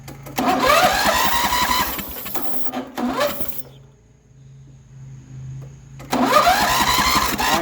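A lawn mower engine with a troublesome cylinder cranks in two loud, whirring, rattling bursts, separated by a pause of quiet clicking and near silence.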